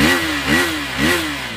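A 390 motorcycle engine is revved with the throttle, giving three quick rising blips over a throbbing idle, loud and close with no voices.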